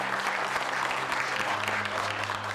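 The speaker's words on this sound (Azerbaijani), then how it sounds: "Səmimi, sevgi dolu alqışlarla qarşılandı." Dense, continuous clapping from a crowd of residents welcoming the President, loud and close with a steady rhythm and a faint low hum beneath, with no clear voices.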